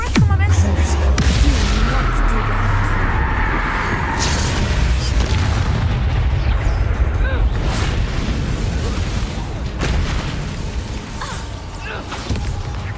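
An Expulso explosion spell fired during a duel in Hogwarts Legacy, a heavy booming blast with rumbling low-end debris that carries through continuous battle noise and spell effects.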